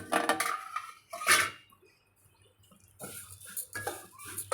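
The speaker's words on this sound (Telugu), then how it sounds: "దీంట్లోనే కొంచెం నెయ్యి వేసుకొని ఇప్పుడు మనం సేమియా వేయించుకుందాం" Vermicelli roasting in ghee in a pan for semiya kesari, heard as scraping and clattering of a spoon against the pan in short bursts, with a quiet gap in the middle.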